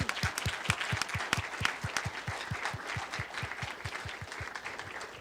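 A startup pitch competition audience claps for the third-place team, a moderately sized crowd applauding steadily with one rhythmic clapper near the microphone keeping a regular beat throughout.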